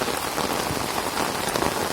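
Rain falls hard over a flooded Assamese village, an unbroken close roar of drops pattering on water and ground, loud and even across the short stretch, with nobody speaking.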